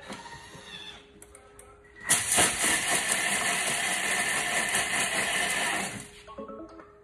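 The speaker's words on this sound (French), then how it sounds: "on va mixer" A food processor blends oat flakes for cookie dough at speed 5, a loud close whirring motor that runs steadily for about four seconds before winding down.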